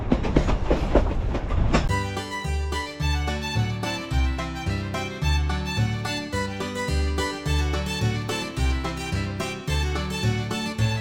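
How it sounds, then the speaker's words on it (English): A Durango-Silverton railroad train rolls along with steady, rhythmic clickety-clack from the railcars, continuous and fairly loud, with no talk over it. "now we are back on the train heading back towards Durango"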